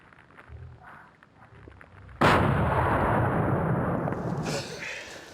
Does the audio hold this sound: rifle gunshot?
yes